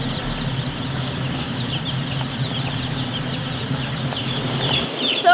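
Inside a commercial chicken barn, many birds cluck and chatter in a steady overlapping murmur over a constant low mechanical hum, with a sharper noise at the very end.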